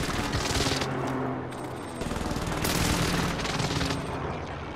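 Sustained automatic gunfire in Call of Duty: Modern Warfare, rapid rattling bursts at steady loudness with a short pause midway, close and dense, with no talking.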